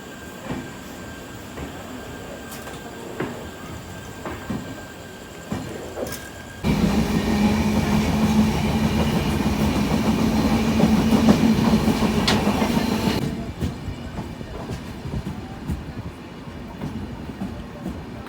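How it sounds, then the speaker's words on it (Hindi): A passenger train near Haridwar rolls along the tracks with a steady rumble and rhythmic wheel clatter that swells loud for several seconds as it passes, then drops back to a quieter carriage hum. "चलिए तो निकल चुकी है हर की पौड़ी से अपनी ट्रेन"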